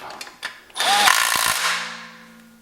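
A power tool runs a 13mm bolt into the upper oil pan of a Chrysler 3.2/3.6 Pentastar engine: a few light taps, then one close, loud whirring burst of about a second that winds down and fades.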